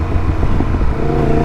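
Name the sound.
motorcycle engine in first gear on rickety road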